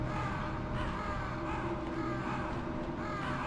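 Several crows caw repeatedly in the Metal Gear Solid video game, overlapping harsh calls layered over a constant low game ambience, moderately loud and fairly close throughout.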